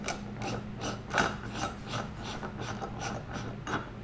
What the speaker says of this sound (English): this is a one-way clutch bearing that we can snug it down